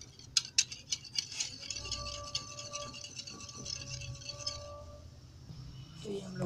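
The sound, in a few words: whisking yogurt with chaat masala in a bowl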